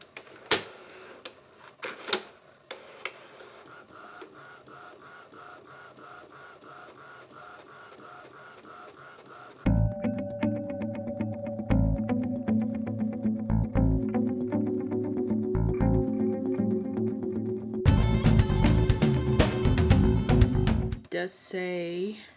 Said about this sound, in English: Press the start button. So I'm going to press this button, and I guess it's going to print a printing report